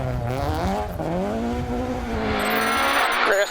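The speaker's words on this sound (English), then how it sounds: "Jason Black and Carl Egan had a tremendous drive in the Toyota Starlet to win Class 13 and finish 5th overall in Mayo" A Toyota Starlet rally car drives a gravel stage at the Mayo Stages Rally in Ireland, its engine loud and close, revving and climbing through gears with steady harmonic whine and tire noise throughout.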